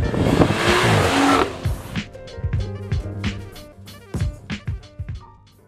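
BMW X3 M40i car accelerating, a rushing engine and road noise that cuts off into a series of sharp, spaced revving bursts and pops close by.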